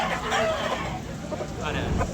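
Chickens and roosters cluck and call at a busy backyard chicken market in Carbon, Cebu, and people talk over the steady crowd noise.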